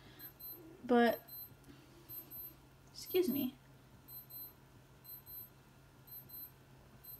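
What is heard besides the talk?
wristwatch beeping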